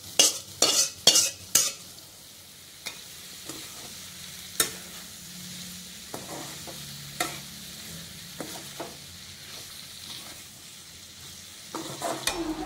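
Cauliflower florets being stirred into a spiced masala in a pan: a cluster of loud spatula knocks at the start, then sparse clinks and scrapes over a soft, low sizzle.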